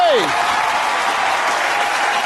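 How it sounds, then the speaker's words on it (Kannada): A studio audience at a Kannada television game show applauds loudly and steadily, with a brief voice heard at the very start. "ಅವ್ರಿಗೆ ಜೋರದ ಚಪ್ಪಾಳೆ ಬರ್ಲಿ."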